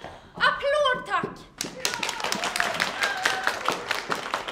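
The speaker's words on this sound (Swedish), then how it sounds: "Applåd, tack!" Clapping from a children's audience at a Mozart-themed stage performance, a bright patter of hands that follows a short burst of speech and continues unevenly to the end.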